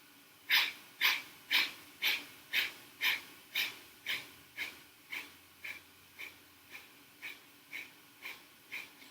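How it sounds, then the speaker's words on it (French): Breath of fire yoga breathing: about sixteen sharp, forceful nasal exhalations in a steady rhythm roughly every half second, close and clear, gradually softening toward the end. "Maintenant, vous êtes prêts à pratiquer la respiration du feu."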